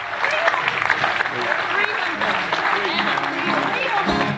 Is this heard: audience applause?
yes